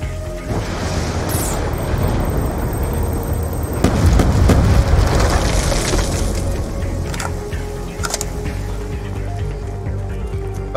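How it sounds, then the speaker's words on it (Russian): Explosion in the video game Call of Duty Black Ops 2, a loud sustained blast and rumble around the middle with debris-like crackle, set in continuous battle ambience and heavy low rumble. "Взрываем! Назад!"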